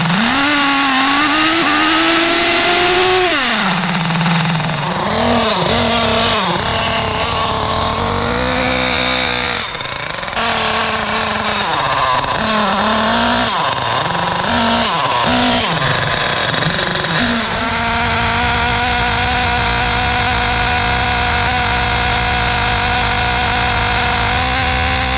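A restored Associated MGT 8.0 nitro RC truck, fitted with a big .50 heli engine and a two-speed transmission, runs loud and close for a long stretch, whining and revving with sweeping pitch changes before settling into a steady high scream.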